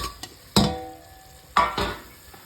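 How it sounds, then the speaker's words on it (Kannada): Rice frying in oil in a pan is stirred, giving three sharp scraping strokes of the spoon over a low steady sizzle, close and fairly loud, with no speech. "ಹಸಿ ವಾಸನೆ ಹೋಗೋವರೆಗೂ ಚೆನ್ನಾಗಿ ಫ್ರೈ ಮಾಡ್ತೀನಿ"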